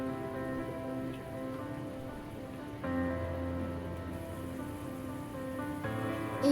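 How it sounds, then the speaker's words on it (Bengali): Coconut, mustard and sesame gravy boiling on a medium flame, a steady close bubbling and crackling hiss with a few small sputters, no talk. "এইবার এটাকে 2 থেকে 3 মিনিট মিডিয়াম ফ্লেমে ভালো করে ফুটিয়ে নেব।"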